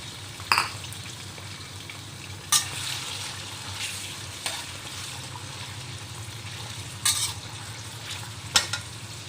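Shrimp stir-fry in a pan with garlic for aglio olio, a steady close sizzle broken by a few sharp utensil scrapes and clinks.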